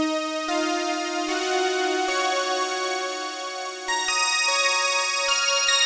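An Omnisphere synth plays its Morning Dew preset through a Chorus Tune 6 effect, heard alone as a bright, shimmering sustained melody with smooth chord changes and faint rhythmic clicks underneath.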